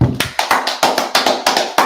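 Rhythmic hand clapping at a Sabbath church service, about ten sharp claps in a steady beat, close and loud, with no voices.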